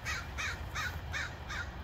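Crows caw five times in an even, repeated rhythm over a steady low background rumble in an outdoor garden, the calls fairly close and clear with no talking.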